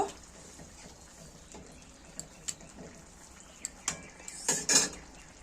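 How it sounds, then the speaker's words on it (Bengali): Soybeans added to an egg curry in a pan, faint background bubbling broken by several sharp clinks and scrapes of a spoon against the pan, growing louder near the end. "এবার আমি সয়াবিনগুলো সব দিয়ে দেব। আবার একটু নেড়ে দেব।"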